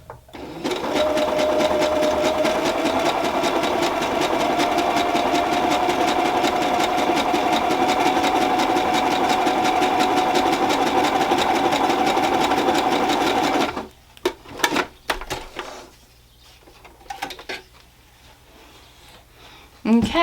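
A domestic sewing machine stitches a seam in one steady, fast mechanical whir for about fourteen seconds, then stops, followed by soft handling noises and a few brief clicks.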